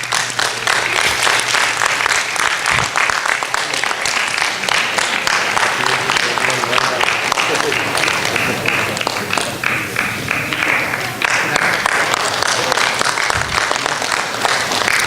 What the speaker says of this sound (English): Please don't stop the claps.